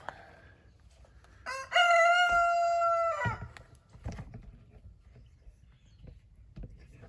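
A rooster lets out one loud, nearby crow, a long sustained call, followed by quieter handling noises and faint background sounds.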